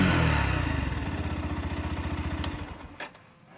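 A Yamaha FZ-S FI V4.0 motorcycle engine runs up close with a rapid, even pulsing throb that gradually fades and slows toward the end, with a couple of sharp clicks near the finish.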